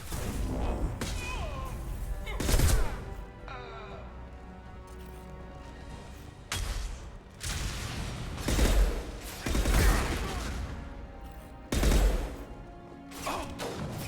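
Gunfire and impacts in the Mass Effect 2 video game come in several sharp, loud bursts spaced irregularly over a quieter mechanical background, with a game voice speaking between them.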